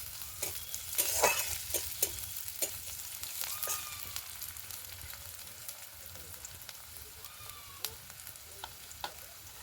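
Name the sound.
chopped carrots and onions frying in a pan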